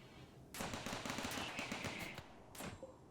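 Base turrets rattle off rapid bursts at attacking mechanoids, including a Scyther, during a Rimworld ambush on an ice sheet, the fire coming faint and distant with a short pause before a final volley.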